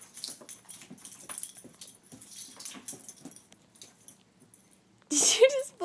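A dog indoors makes soft snuffling and whimpering noises among light rustles and a jangle of keys, ending in a sudden louder burst, while a person talks over it.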